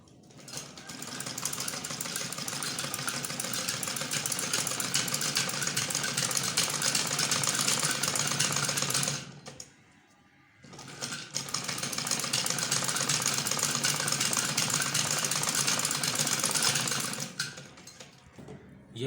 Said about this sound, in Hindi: अब हमने इसको कॉलर को ऐसे सिलाई लगानी है एक बूट के फासले पर।